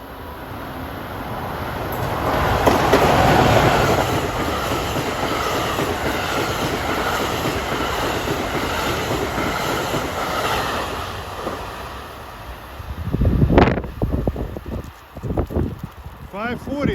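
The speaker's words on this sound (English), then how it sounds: "That was 6647, New York to Dover train." New York to Dover commuter train 6647 rushes past a suburban station platform on an autumn evening, a loud rumbling roar of wheels and cars that peaks early and holds, then fades, followed by a few sharp clanks.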